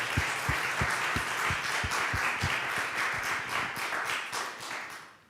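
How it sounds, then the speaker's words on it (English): An audience gives a round of applause after a talk on difficult histories, a dense, moderately distant wash of many hands clapping that holds steady and then fades near the end. "Can we just get a round of applause real quick?"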